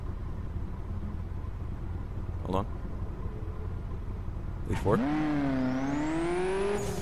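A Mini Countryman All4 rally car in dirt spec, racing in The Crew, revs its engine hard, a rising, bassy whine climbing steadily in pitch over a low rumble, close and loud, after a short blip; a voice speaks briefly before.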